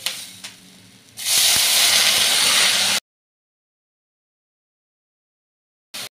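Water goes into a pan of frying vegetables for oats khichdi, setting off a sudden loud hiss and sizzle after a quieter frying sound. It holds for a couple of seconds, then stops abruptly into silence.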